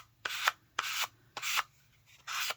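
Vigorous sanding of a glittered miniature, four distinct close rasping strokes in a steady back-and-forth rhythm, each a short scratchy burst separated by brief quiet gaps.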